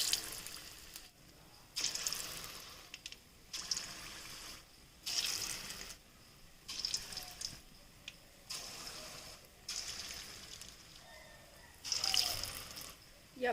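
Medium-sized gulgule batter balls for an Odisha-style sweet are dropped one at a time into hot oil, each landing with a hissing burst of frying that rises and fades, repeating in a steady rhythm close by.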